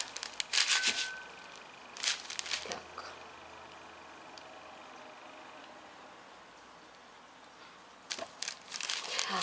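A small plastic bag holding beads, stones and threads from a craft kit crinkles in a few short close bursts, with quiet pauses between handlings.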